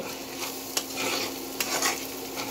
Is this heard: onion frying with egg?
yes